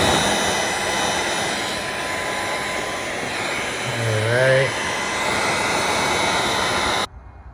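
A heat gun runs as a steady, loud whoosh of blowing air while warming a carbon fiber spoiler on a Mustang GT500, holding constant before cutting off near the end.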